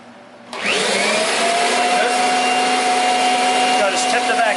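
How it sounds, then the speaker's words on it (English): A Kirby Avalir 2 vacuum cleaner switches on with a sudden loud whine and runs steadily and close by, its high motor tone holding constant for several seconds. "turn it on, turn it upside down,"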